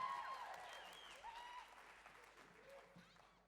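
Audience applause for a band at a Smokefree Rockquest Auckland Central heat, a steady, fairly faint wash of clapping from a crowd that carries on for the whole stretch without a break.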